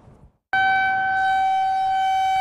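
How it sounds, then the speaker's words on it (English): A storm warning siren in Story County, Iowa blares out abruptly after a moment of near silence, holding a loud, steady wailing tone without pause, heard after a severe storm with damaging winds and heavy rain. "First, there was the siren"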